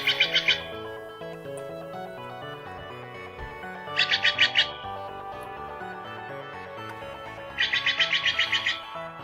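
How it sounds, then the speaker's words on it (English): Steller's jays visiting a backyard bird feeder: three bursts of rapid, harsh repeated calls spaced a few seconds apart, each a quick run of about five notes, heard over continuous background music. "let's redeem the Stellar Jays. These are some birds that come by my bird feeder every day, and they're the best birds."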